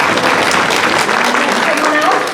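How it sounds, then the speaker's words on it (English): A room full of people at a conference keynote claps steadily for a couple of seconds, dense, continuous applause close by. "Give her a round of applause."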